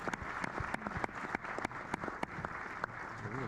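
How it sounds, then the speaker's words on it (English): Audience applause at a farewell tour stage show about football memories, many hands clapping at once with sharp individual claps standing out, moderately distant and steady for the whole stretch. "Give it a round of applause."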